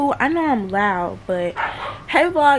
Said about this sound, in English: Excuse my dog, that's probably why I'm being loud, because she's loud